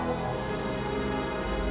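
Steady rain in the video game Outcast - Second Contact hisses evenly throughout, a dense, constant wash of falling drops with no voices.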